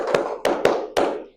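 Four sharp hand claps in a quick uneven pattern, close and clear, performed as a classroom clapping routine in a teaching session.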